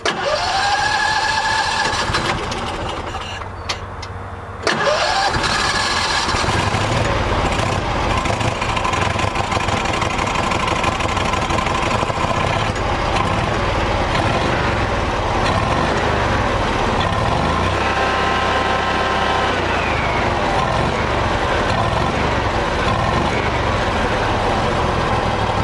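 A Howard Price Maverick 620 boat engine cranks and catches, stumbles briefly, then settles into a loud, steady mid-pitched running drone that holds for the rest of the stretch, with no talking.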